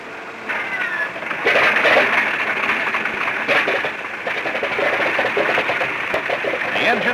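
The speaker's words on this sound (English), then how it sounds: "And number 1 is started in the same order." Piston aircraft engines with turbosuperchargers run loudly on the ground just after starting, a continuous rattling, droning roar with a faint whine and occasional firing bursts, recorded on an old 1943 soundtrack.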